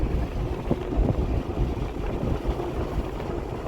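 Diesel Hummer H1 passing by outdoors, heard as a steady broadband rumble and whoosh mixed with wind buffeting the microphone, continuous and fairly loud for the whole stretch.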